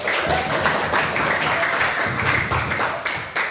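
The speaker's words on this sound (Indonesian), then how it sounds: "Berikan aplaus dong" Loud, dense applause from a classroom group, a continuous close-up wash of many hands clapping at once that holds steady for several seconds.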